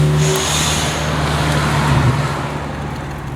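A supercharged 2011 Toyota Tacoma pickup truck cruises along a road in second or third gear, its engine a steady, low, close drone with road noise and no voices.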